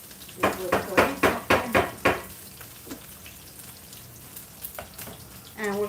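Beans being refried with chorizo in a pan, a run of rhythmic scraping stirs and spoon clatters over a low sizzle, then quieter frying with a short voice at the end.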